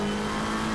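McLaren 720S EVO race car engine in Assetto Corsa Competizione holds a steady, loud high-revving drone at close range, with no talk over it.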